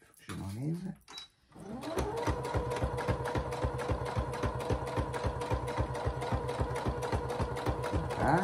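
A sewing machine topstitches through the thick layers of a double-sided snap-button pouch at a 3.5 stitch length, a close, steady run of evenly spaced needle thumps after a brief voice and pause.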